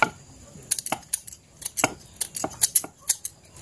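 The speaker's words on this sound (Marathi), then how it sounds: "4 मिरच्या आपण कट करून घेऊया। त्या पण उभ्या कट करायच्या आपल्याला" Green chillies sliced lengthwise on a board: a quick irregular run of crisp knife taps and cuts, close and fairly quiet, with no talk.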